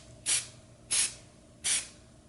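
Three short bursts of spray paint hissing from a can onto MDF, evenly spaced, with quiet pauses between each spray.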